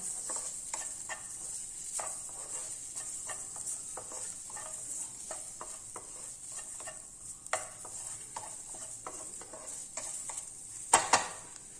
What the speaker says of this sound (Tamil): இந்த பூண்டு இருக்குது பார்த்தீங்களா இதை தட்டி வச்சுருக்கேன் இதுலேயே சேர்த்துடலாம் அப்படியே கொஞ்சம் வதங்கட்டும்